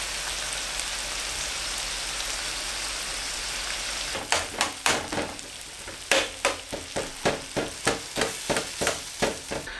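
Tomato masala sizzles steadily in a karahi for Pakistani chicken makhani, a constant hissing fry overlaid midway by a rhythmic series of scraping stirs against the pan, close and clear with no talking.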